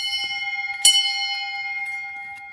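A church bell in Italy strikes once with a bright, ringing clang, its sustained hum lingering and slowly fading beneath faint background sounds.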